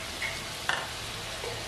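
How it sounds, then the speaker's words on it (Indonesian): Spice paste and bay leaves sauté in hot oil, giving a steady, close hiss of frying with a few faint clinks of stirring and no voices. "Langsung aja kita tumis bumbunya di minyak panas. Masukin daun salam"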